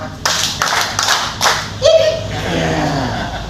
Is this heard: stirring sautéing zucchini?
no